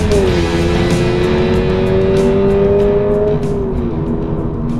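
A 2023 Toyota GR86 with a 2.4 litre boxer engine drives along, its loud, steady engine drone holding pitch before easing down toward the end, with no talking.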